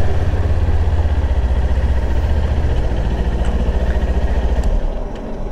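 A Kawasaki Ninja 400 motorcycle engine idles close by with a steady low throbbing rumble, holding an even pulse before the deep tone fades near the end.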